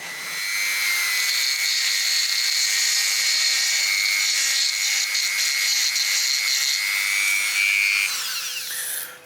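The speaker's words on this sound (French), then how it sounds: "on utilise les fraises un peu de dentiste pour récupérer la poudre" A small dental burr grinds steadily into a marble sample to collect powder for analysis, producing a loud, continuous high-pitched whine with a rasping edge that runs about eight seconds before winding down.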